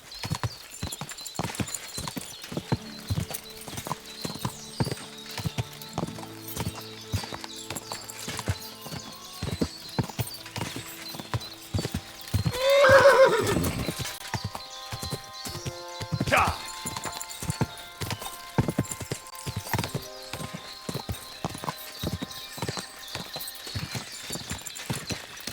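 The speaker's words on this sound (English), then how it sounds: "These damned horses, they got spooked in the forest" Horses in the medieval video game Kingdom Come Deliverance II, with steady hoof clip-clop across the whole stretch and a loud whinny in the middle, set against game music and some talk.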